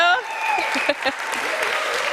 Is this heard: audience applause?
yes